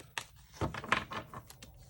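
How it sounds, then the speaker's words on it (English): Quick, close clicking and riffling of tarot cards being shuffled, a short flurry of soft snaps in irregular rhythm, with no voices. "one more shuffle."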